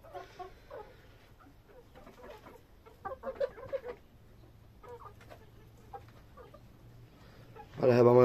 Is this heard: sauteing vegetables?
no